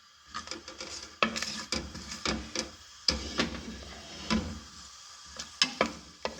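Cumin and two or three dried round red chillies frying in hot oil in a home kitchen, giving a crackling sizzle broken by repeated spoon-on-pan scrapes and clinks close by.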